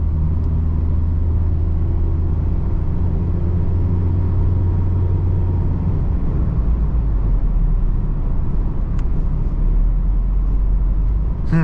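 A 2016 Mazda MX-5 Miata cruises steadily in automatic mode, with a continuous low engine drone and road rumble heard from inside the cabin, loud and even throughout with no talking.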